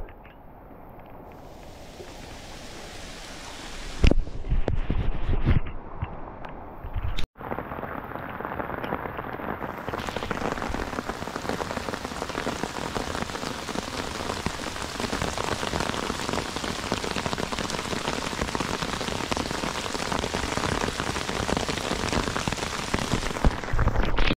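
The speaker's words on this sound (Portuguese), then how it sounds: "E começou a chover, mas nós não vamos desistir da pescaria" Steady rain pours down on a river fishing trip on the Mogi Guaçu, a dense continuous hiss of drops striking surfaces close by, briefly interrupted by a few louder knocks early on before settling into an even downpour.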